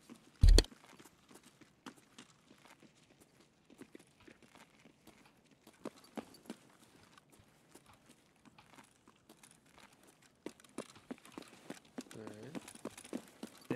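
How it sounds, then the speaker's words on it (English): Footsteps of a squad moving at a run in the shooter game Escape from Tarkov, making a quick, irregular clattering like hooves, moderately close and fairly quiet, with a louder knock near the start. "We sound like horses."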